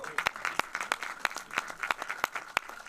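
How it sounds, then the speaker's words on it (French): Audience at an African cinema festival award ceremony clapping: sparse, fairly faint applause with distinct individual claps in an uneven rhythm, a small crowd heard at moderate distance. "Voilà, on applaudit."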